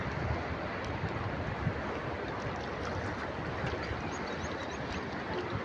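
Floodwater river surging past a village in a violent storm flood, a loud continuous broadband rush and roar of fast-moving water with wind buffeting, steady and close with no talking.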